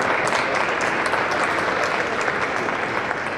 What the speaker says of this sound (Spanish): Aplausos fuerte para él.